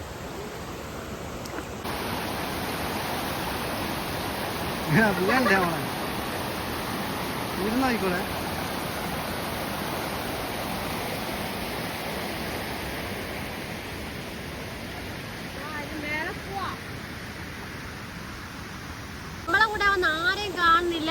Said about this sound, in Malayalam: വെള്ളച്ചാട്ടത്തിൽ നല്ല സൗണ്ടും കേൾക്കുന്നുണ്ട്